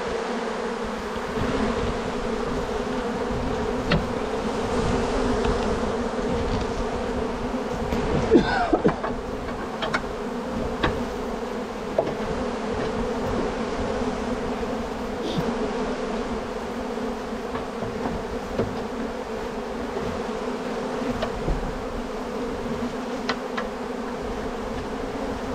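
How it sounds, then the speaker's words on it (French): A swarm of honeybees drones steadily inside an attic, a dense continuous buzz at close range with occasional nearer individual bees passing and faint handling sounds, no talking. "J'ai encore des abeilles qui traînent là-haut."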